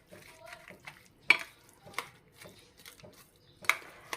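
Eggplant bharta with onion being stirred and mixed in a pan, quiet scraping and a few sharp clinks of a spoon against metal, sparse and close with faint background.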